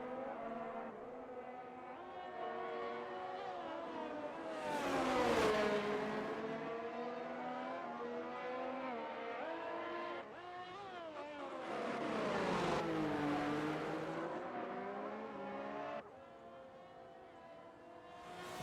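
Race cars circle a track in a racing video game, engines droning and rising in pitch as they accelerate, two louder surges passing by over a steady background whine.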